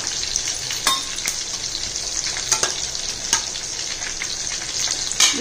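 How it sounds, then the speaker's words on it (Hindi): Whole spices and two dried red chillies sizzling in hot oil in a wok, a steady loud crackle with sharp spattering pops and occasional stirring clinks. "कढ़ाई में मैं थोड़ा तेल को गर्म कर ली हूँ उसके बाद डालूँगी थोड़ा सा कड़ा मसाला और दो ठो सूखा मिर्चा"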